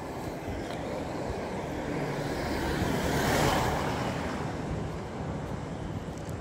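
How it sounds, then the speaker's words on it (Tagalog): Outdoors, wind rushes steadily past the mic in a broad, roaring wash that swells toward the middle before easing slightly, with no one speaking. "May hangin ngayon. Ganda."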